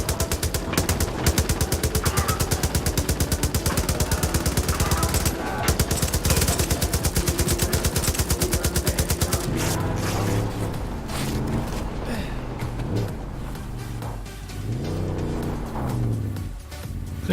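Rapid, loud automatic gunfire in Far Cry 5 rattles steadily as a convoy is shot up, with a brief break before vehicle engine roar takes over and a few more scattered shots follow.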